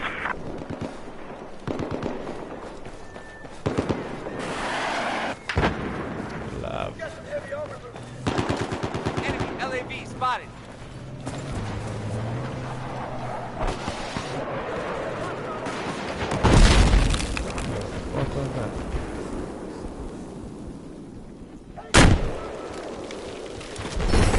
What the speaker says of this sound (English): it looks like there's a hostile machine gunner